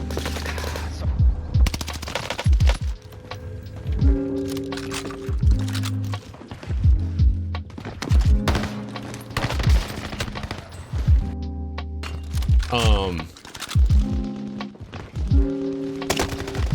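Rapid automatic gunfire from the Call of Duty Warzone video game on the Fortune's Keep map, with loud repeated bursts of shots and brief pauses between volleys.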